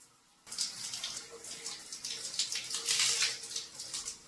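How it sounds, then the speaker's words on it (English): Water running from a tap or shower rinsing conditioner out of short hair, a steady close hiss and splash that starts abruptly and continues with slight fluctuations. "rinse the conditioner now"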